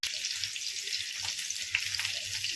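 Green chillies frying in a mix of ghee and oil: a continuous bright crackling sizzle, close and steady, with small popping spatters, no voices.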